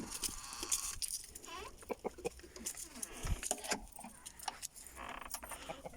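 Chickens clucking inside a coop as it is opened after some days, with short scattered clucks, rustling and clinking close by. No talk.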